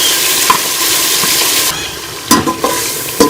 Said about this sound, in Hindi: ये मसाले को अच्छी तरह से भून लूँगी ताकि ये टमाटर जो है हमारे गल जाए।